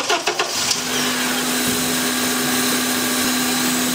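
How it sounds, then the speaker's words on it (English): A few quick clicks, then a car engine starts into a steady loud mechanical whirr and hiss, settling into a constant drone with air rushing through the brake booster vacuum hose. "Now we'll start the vehicle, and we should have vacuum on this end of the hose."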